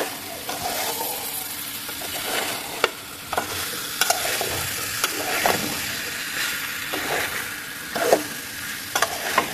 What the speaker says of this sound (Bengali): ভালো করে আমি কষিয়ে নিব, মাংসটা ভালো করে কষিয়ে নিব।